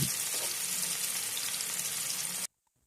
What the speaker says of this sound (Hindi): मीडियम आंच पर लगातार चलाते हुए पनीर को अलट पलट करते हुए हमें फ्राई कर लेना है।